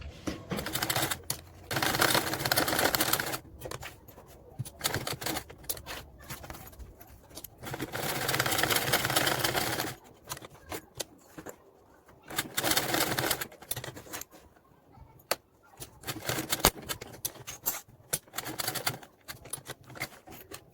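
Bursts of rapid mechanical stitching from a sewing machine sewing along the edge of a zipper opening, starting and stopping several times with quiet pauses between runs.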